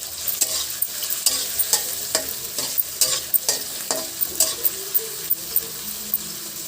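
Chopped onions sizzle and fry in a pan over medium flame, stirred with a spatula in a steady run of sharp scraping strokes over a constant hiss, close and fairly loud, no voices.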